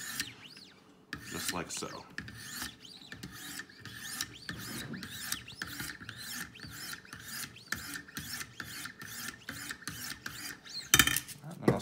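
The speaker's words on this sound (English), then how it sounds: "start with your stone all the way down against the heel of the knife and finish it so that the bottom of the stone comes off the tip of the knife" Repeated rasping strokes of a sharpening stone drawn along a knife edge, heel to tip, on a Wicked Edge guided sharpener, in a steady rhythmic series of close scraping passes with a brief spoken phrase near the start.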